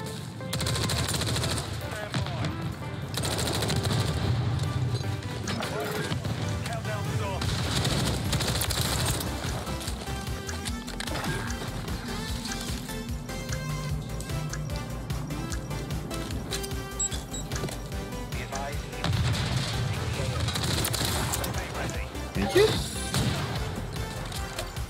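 MCW assault rifle gunfire in a video game, with repeated bursts of rapid shots under a dense mix of game noise, explosions and effects, continuing through most of the stretch.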